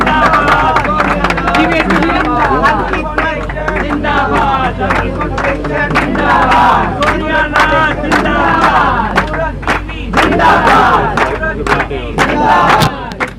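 A crowd at an Alkhidmat Foundation iftar gathering cheers and applauds, loud and continuous, with shouting voices and babble riding over scattered clapping throughout.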